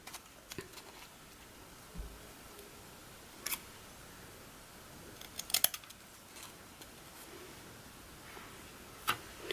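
Scissors snipping glitter ribbon into pieces for a spiked hair bow, a few short, quiet cuts spaced apart over a low background hiss, with no talking.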